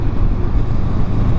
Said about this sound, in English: inside of my helmet, I hear a lot of the wind sounds that I feel like the exhaust previously muffled